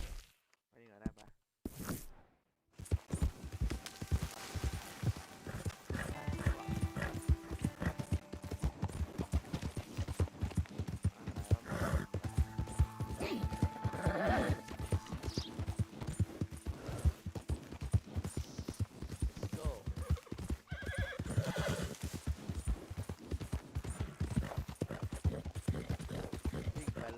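Horse hooves clip-clop in a continuous, brisk rhythm in Red Dead Redemption 2, close and fairly loud. They run for most of the stretch, with soft background sounds, and the neighing is not clearly evident.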